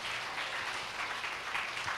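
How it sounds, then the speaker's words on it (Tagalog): A church congregation applauding, a dense continuous wash of many hands clapping that holds steady and sounds moderately distant and fairly soft. "Mas malakas yung palakpak sa Diyos."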